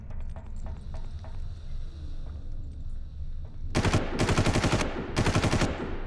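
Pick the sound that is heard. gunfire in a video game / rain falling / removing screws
gunfire in a video game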